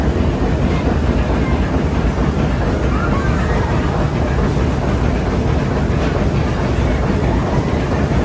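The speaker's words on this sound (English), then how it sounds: "The engine room of the steamship." Dense, steady steamship engine room machinery roar fills the space, a constant low rumble with rhythmic mechanical clatter running throughout, loud and close.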